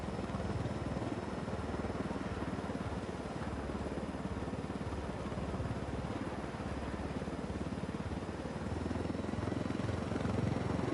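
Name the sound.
helicopter flying in video game Ghost Recon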